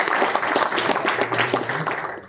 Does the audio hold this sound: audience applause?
yes